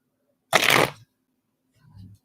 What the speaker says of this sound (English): All of this resistance I'm getting from shuffling.